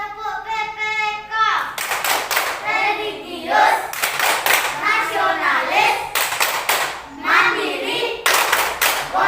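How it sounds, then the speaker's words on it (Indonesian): Children in a classroom chant the Indonesian 'tepuk PPK' loudly together in unison, punctuated by groups of sharp synchronized hand claps in a repeating rhythmic pattern. "Nah, dilanjutkan dengan tepuk PPK. Tepuk PPK."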